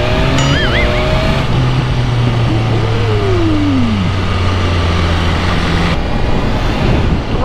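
A loud motorcycle engine runs continuously with a rough, throbbing rumble, its pitch dipping and shifting once as if the throttle changes, nearby and steady.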